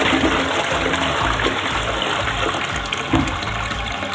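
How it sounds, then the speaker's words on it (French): A toilet flushing in an apartment bathroom, a loud close gush of rushing water that swirls steadily with a brief splashy surge near the end. "regardez quand je tire la chasse d'eau."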